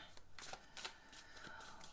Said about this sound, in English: So what I would do is shuffle and focus on that.